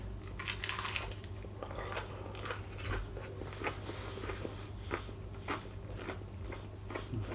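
Crunchy salted crackling being bitten and chewed, giving a steady run of close, crisp crunches with no talking.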